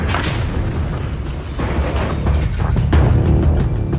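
A large gun fired inside a building, heavy deep booms with rumbling reverberation and sharp cracks near the end, loud and close.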